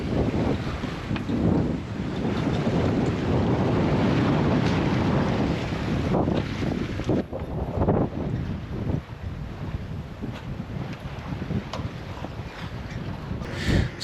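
Strong wind roars steadily over a lone sailboat running downwind through heavy Roaring Forties seas in about 25 knots of true wind, with waves rushing and churning close by and no voices.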